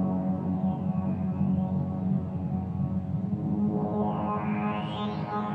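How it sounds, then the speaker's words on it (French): A Moog Sub 37 synthesizer plays through a guitar effects box with reverb, giving a dense, sustained low drone with a steady pulsing texture and faint sweeping tones above it. "Voilà, là, ça c'est le son du Moog Sub 37"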